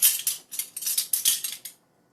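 A metal measuring spoon is lifted from its set, giving a quick string of light jingling, clinking taps close by that stop abruptly, followed by silence.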